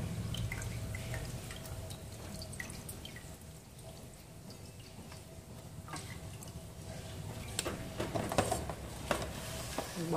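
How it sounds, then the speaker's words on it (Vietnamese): Boiled water spinach tipped into a basket and left to drain, faint steady dripping and trickling of water at close range in a quiet kitchen. "thì các bạn là vớt rau muống ra cái rổ cho mình nhé, để cho nó róc nước"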